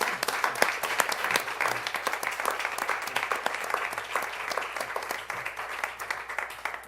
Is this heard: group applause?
yes